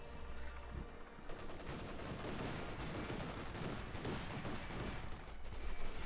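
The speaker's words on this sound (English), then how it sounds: "Lux strikes at exposed American infantry." Luchs armored car firing on exposed infantry in Company of Heroes 2, a real-time strategy battle: sustained, dense rattling automatic gunfire, fairly faint and distant, continuous over a battlefield din.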